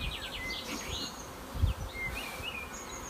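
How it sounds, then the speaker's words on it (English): Honeybees during a first hive inspection: a close, continuous buzzing drone with individual bees zipping past in short rising and falling whines, and a brief low thump partway through, with no voices. "Look, there's a bee right there."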